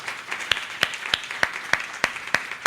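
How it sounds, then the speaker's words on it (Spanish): Sparse, slow clapping for a quinceañera at a church thanksgiving Mass, roughly ten sharp claps evenly spaced at a moderate distance in a reverberant room. "Un aplauso a nuestra quinceañera."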